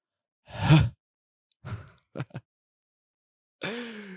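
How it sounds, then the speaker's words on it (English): A person breathes close into a microphone, giving a few soft breaths and exhalations separated by silence. "it's so funny just breathing into the mic like this"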